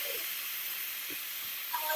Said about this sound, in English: Do venting. And this is why I'm terrified of pressure cookers.